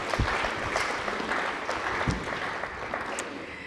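Audience applause at a French literary gathering, a steady patter of clapping lasting a few seconds at moderate level with some louder individual claps.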